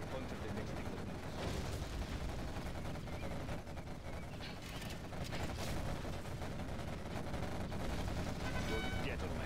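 Quad cannon firing in Command & Conquer Generals: Zero Hour during a 1 vs 7 match, a dense, continuous rattle of rapid gunfire with rumbling battle noise that stays loud throughout.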